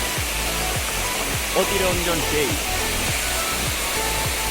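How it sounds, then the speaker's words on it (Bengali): A monsoon-swollen waterfall on the Napittachhara forest trail roars in a loud, unbroken rush close by, with a voice talking briefly over it. "দেখতে পাচ্ছেন ঝর্ণাটা খুব সুন্দর"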